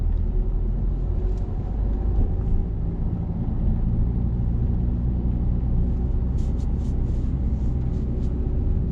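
A learner driver's car accelerates through the gears during a driving lesson, its steady low engine rumble continuous and fairly loud throughout, with a few faint high clicks near the end.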